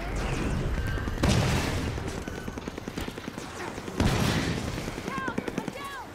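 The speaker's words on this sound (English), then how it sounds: "Under fire from that warthog." Rapid gunfire from a Warthog vehicle in the Halo 5 video game, dense rattling bursts repeating loudly with heavy booms and game effects, while a player speaks over it.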